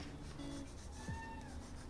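A cat meows outdoors, wanting to be let back inside: a few drawn-out meows, moderately near and clear over a quiet indoor background, with no talking.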